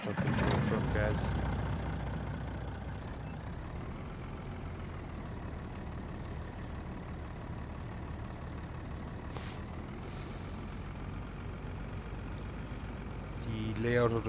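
A truck engine idles in Farming Simulator 19, a steady low rumble running evenly throughout, with a few brief clunks near the start and end.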